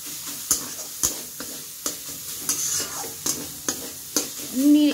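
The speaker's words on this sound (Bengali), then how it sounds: "নেড়ে নেড়ে এগুলো মিশিয়ে নেব" A spoon stirs and mixes chicken patty filling with mashed potato and turmeric-boiled ingredients in a bowl or pan, giving sharp regular taps and scrapes roughly twice a second, close and clear, with no talking.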